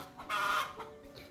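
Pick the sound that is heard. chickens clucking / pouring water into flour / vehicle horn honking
chickens clucking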